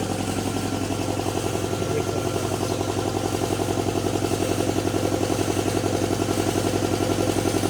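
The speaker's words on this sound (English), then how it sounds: "Just a minute while the compressor finishes compressing." The compressor of a System Packaging SP800 packaging machine runs with a steady, loud mechanical drone and a fast rhythmic pulsing clatter throughout, with no talking.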